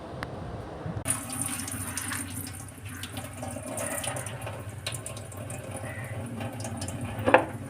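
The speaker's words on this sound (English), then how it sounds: "Clean and wash poha or flattened rice for 2 times and soak it in good water for 2 to 3 minutes and drain the water." Running water splashes steadily into a bowl as poha (flattened rice) is rinsed, a continuous close tap stream with small clinks and sloshes near the end.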